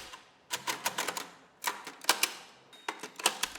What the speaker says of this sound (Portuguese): Foco em mãos ágeis datilografando em máquina braille.